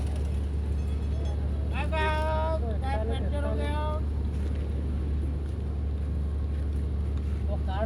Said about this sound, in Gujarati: આ જો ટ્રેક્ટર